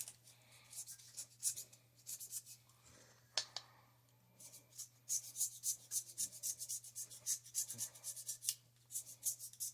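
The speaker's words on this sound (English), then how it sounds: "Just scrape the carbon off the head of the piston." A razor blade scraper rasps carbon off the head of a piston from a turbo 4.8 LS engine, giving repeated short scratchy strokes in close, steady bursts with a brief pause near the middle over a faint constant hum.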